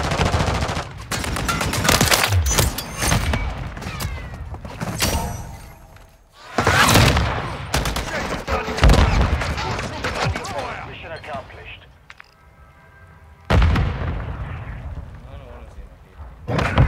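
Heavy automatic gunfire rattles in the Call of Duty: Modern Warfare 3 match on the Underpass map, with loud bursts, explosions and brief pauses while in-game voices call out over the shooting.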